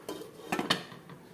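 A metal lid set onto a pan of chicken lollipops, a few light clinks and a short clatter of metal on metal, close and fairly quiet, with no voices.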